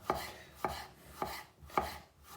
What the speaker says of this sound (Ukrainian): І ось так тонкими слайсами нарізаю.